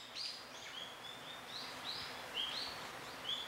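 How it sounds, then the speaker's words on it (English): Several birds chirp in short, high calls over a soft background hum, in a setting where bulbuls prey on butterflies; the calls come a few at a time, faint and somewhat distant. "birds like the bulbul"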